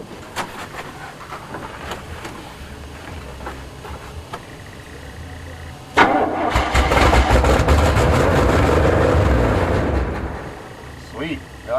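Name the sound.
1977 GMC 400 truck engine starting after 7 years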